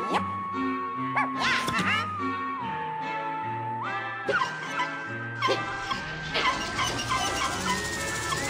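A dog in Luigi's Mansion 2: Dark Moon yips and whimpers in short bursts over busy game music with a melodic line, the cries rising above the score a few times.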